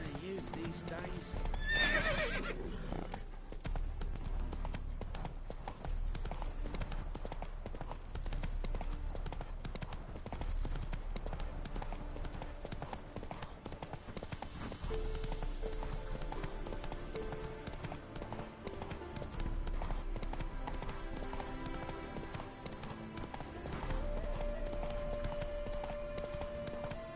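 Roach, the horse in The Witcher 3, gallops with steady, fast clip-clop hoofbeats over a continuous game soundscape, with a whinny near the start and voices talking over the hooves.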